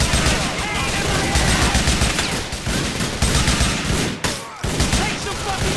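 Attackers who have jumped a fence open fire in a dense, continuous barrage of overlapping gunshots that stays loud and chaotic throughout, with voices mixed in underneath.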